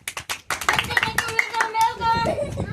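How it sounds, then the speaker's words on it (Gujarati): A group of children and adults clap in a quick burst of hand claps during a lively family challenge game at home, loud and close, mixed with excited voices and chatter. "તાળીઓ પાડો."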